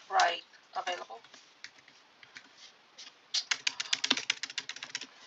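Fingers tap quickly on a computer keyboard in short bursts of close, crisp clicks, ending in a denser flurry of keystrokes. A voice speaks briefly at the start.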